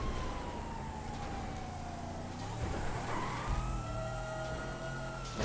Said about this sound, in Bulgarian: Моля те спри с изкапаните сирени